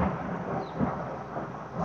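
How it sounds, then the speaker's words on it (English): Thunder rumbles in Beechdale, a low rolling boom that swells and lingers steadily for a couple of seconds with rain hiss beneath and no voices. "But that was thunder."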